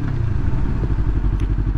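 A 2019 Yamaha R3 motorcycle engine rumbles close by with a rough, pulsing low throb and some clatter while the bike brakes and slows.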